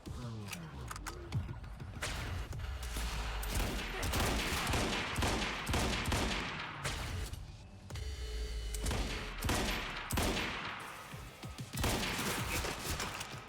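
Enemy gunfire from the action shooter Quantum Break, near-constant rapid shots and impacts layered into a dense, loud barrage with brief lulls and crashing hits throughout.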